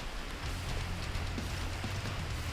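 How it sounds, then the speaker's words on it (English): Heavy rain pours down at a garage during a flooding downpour, a dense, steady hiss with a low rumble underneath that runs unbroken throughout. "It is flooding like mad."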